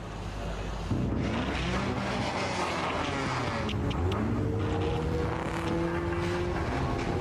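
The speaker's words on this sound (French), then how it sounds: "Pendant ce temps, le balai des voitures continue." Cars drive past on a road at night, engines rising and falling in overlapping passes with tire hiss over a steady low traffic rumble, moderately close and continuous.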